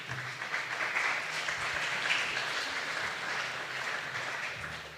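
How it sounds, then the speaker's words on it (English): An audience applauds Alexander Vladimirov at a startup pitch event, producing a steady, dense wash of clapping that holds at an even level for about five seconds. "Big applause for him."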